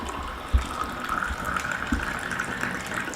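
Slightly warm water, just heated on a stove, poured from a pan into a glass in a home kitchen, a steady close trickle and gush lasting a few seconds with no talking.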